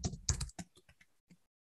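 A handful of computer keyboard keystrokes clack close and crisp as a command is typed, a quick cluster of taps that thins into spaced single presses with no talk.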